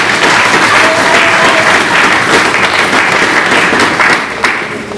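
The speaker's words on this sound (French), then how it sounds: "Sous votre ovation, nous recevons Monsieur le gouverneur." Sustained applause from an assembly audience welcoming the governor of Kinshasa at the inaugural session of the provincial assembly, steady dense clapping that fills the room and fades slightly near the end.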